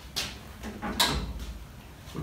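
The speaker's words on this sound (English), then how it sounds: "we can easily open the doors," Cabinet doors on a SABRE-350 14-inch bandsaw are opened, giving a few close clicks and latch knocks followed by a faint rattle, with no voices.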